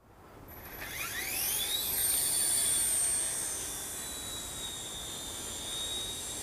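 A WLToys V911S RC helicopter flies outdoors in still air, its small motor giving a steady high-pitched whine with rotor tones rising as it spins up, then holding level for several seconds.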